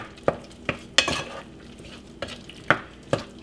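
Spoon stirring milk with garlic powder, salt and pepper in a pot or bowl, a handful of sharp clinks and scrapes at an irregular pace, close and clear with no talking.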